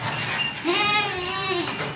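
Beetal goats bleat in a wavering, drawn-out call on a goat farm, with a steady murmur of other farm background sound beneath it.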